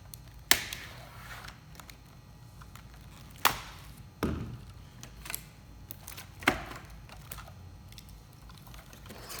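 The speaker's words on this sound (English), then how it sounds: "let's just go ahead and cut this whole thing open here" Packaging around a Ford Performance control pack for a Coyote-swap Mustang is cut open, with several sharp, separate slicing and snapping sounds spaced a few seconds apart over quiet rustling, and no talk.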